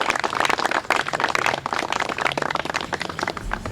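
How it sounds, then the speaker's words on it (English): At an outdoor groundbreaking ceremony on Long Island, an audience gives labor representatives a round of applause. Dense, lively clapping is close and loud, with no talk. "let's give our friends in labor a nice round of applause for what they do for Long Island"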